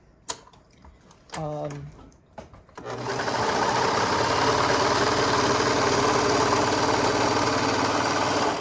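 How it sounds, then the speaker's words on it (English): A Brother 1034D serger stitches with white thread, starting after a few soft clicks and a brief voice, then running as a loud, steady, rapid mechanical whirr up close for over five seconds. "I'm going to serge using this white thread so you see exactly what I'm saying."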